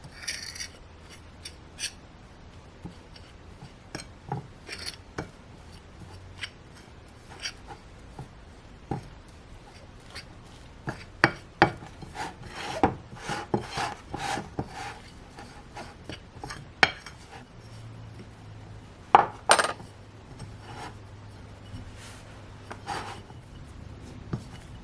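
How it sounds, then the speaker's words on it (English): Heavy cream being stirred into peanut butter biscuit dough in a bowl, soft scraping and rubbing strokes with sporadic sharper clinks of the utensil against the bowl, close and fairly quiet, without speech. "I want to stir this in until a dough forms."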